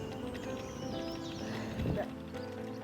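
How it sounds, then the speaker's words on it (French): A pony's hooves clip-clop in a few soft, uneven steps at close range, mixed with people talking and a brief bump near the end. "le but c'est d'arrêter le poney, Myrna, pour pouvoir monter dessus"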